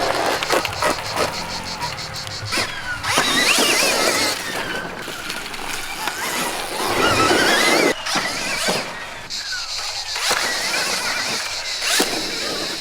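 A Stark Varg electric motocross bike whines and buzzes up and down as it rides nearby, its high-pitched motor rising and falling over rough ground.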